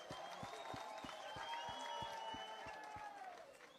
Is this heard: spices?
no